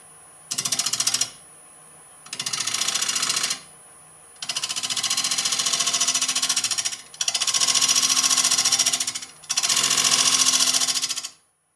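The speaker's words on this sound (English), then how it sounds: "I've got the Hunter Carbide cutter in my Lyle Jamieson hollowing rig right now" A Hunter carbide cutter in a Lyle Jamieson hollowing rig cuts into an oak bowl on a lathe. Five loud bursts of cutting, each one to three seconds long, are separated by short gaps where the quieter lathe keeps turning. No one speaks.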